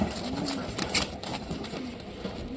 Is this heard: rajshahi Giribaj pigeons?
yes